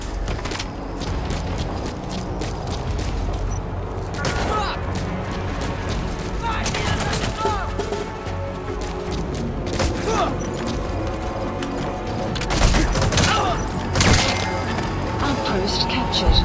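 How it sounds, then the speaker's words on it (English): Loud unsuppressed gunfire in Metal Gear Solid V: The Phantom Pain, sharp cracks and bursts recurring over a busy, noisy battle mix of impacts and mechanisms, with voices talking in between. "Your suppressor is no longer effective. Bear in mind your weapon will be loud from now on."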